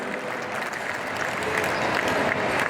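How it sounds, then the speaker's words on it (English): An audience at a pow wow exhibition in a mall applauds, a steady wash of clapping from a crowd that carries on evenly throughout, with a voice faintly audible beneath it. "thank you for that applause"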